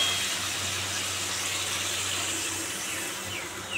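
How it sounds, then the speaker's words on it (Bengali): Water pours steadily into a pan of fish curry with onions, green chillies and tomato, a continuous close rushing splash lasting a few seconds. "জল দিয়ে দিই"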